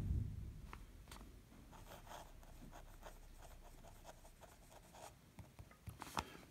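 A pen scratches across paper in quiet, close strokes, with soft irregular taps and scrapes as letters are handwritten.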